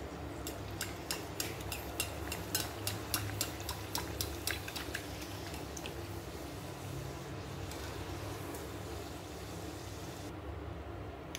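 Mango modak and kanola deep-frying in hot oil, a steady close sizzle with a run of light metallic clinks from a utensil in the first half.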